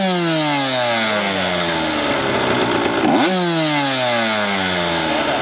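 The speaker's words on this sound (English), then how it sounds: "With the motor warmed up and transmission in neutral, quickly blip the throttle to about half throttle." Half-throttle blips from a warmed-up KTM/Husqvarna 85/105 two-stroke motocross engine in neutral: loud, close revs that climb sharply and fall back toward idle, with a pronounced rev spike and drop near the end.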